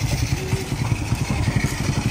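A motorcycle engine idles steadily in a mechanic's shop, a close, continuous low-pitched rhythmic putter of firing pulses with no speech over it.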